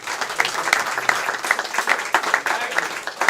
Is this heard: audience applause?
yes